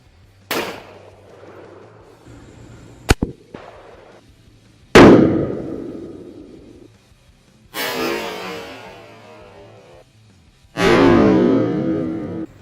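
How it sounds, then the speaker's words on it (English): Smith & Wesson 500 Magnum revolver firing 400-grain bullets outdoors: several sharp, very loud close-range blasts, each trailing off in a booming echo, separated by quiet gaps. "now we got the Smith & Wesson 500 with those 400 grain bullets"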